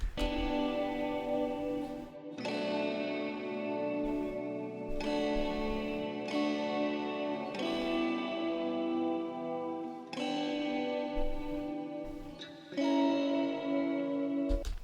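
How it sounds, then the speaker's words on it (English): Sustained electric guitar chords strummed in a steady pattern, washed in reverb and effects, changing every couple of seconds with no voices. "there's also this electric guitar just strumming chords, giving it more atmosphere"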